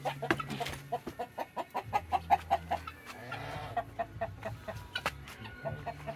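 A Rhode Island Red chicken in a backyard clucks in a steady run of short, rhythmic pulses at close range, with faint ambient noise and no talking.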